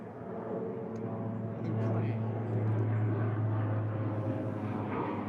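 An airplane flies overhead, making a steady, low droning hum that swells slightly partway through. People talk over it.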